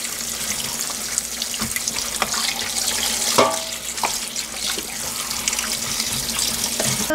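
Tap water runs steadily into a sink while a pollock is rinsed clean, a continuous close splashing hiss with small knocks and handling sounds.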